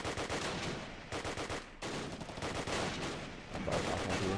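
Rapid bursts of machine-gun and rifle fire in the World War II strategy game Close Combat Last Stand Arnhem, loud and dense, continuing almost without pause.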